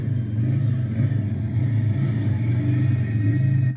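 Race motor pulled under power through a section of a competition course, a close, loud mid-pitched engine drone with slight rhythmic pulsing, steady for a few seconds then easing at the end, no voices.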